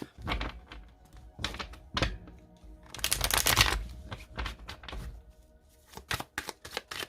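Oracle cards being cut and shuffled by hand, a run of crisp riffling bursts and soft taps, with one longer flurry of shuffling in the middle, close and clear without talk.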